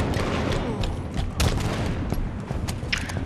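Video-game gunfire crackles in rapid bursts of sharp shots, several close cracks in quick succession over a busy background.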